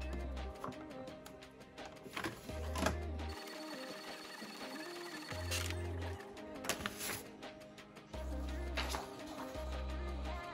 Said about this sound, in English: Then you'll print your second page.